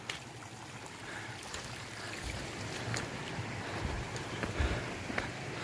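A creek runs down a Grand Canyon hiking trail near Havasupai Garden, a faint continuous rushing wash with scattered small splashes and no talking.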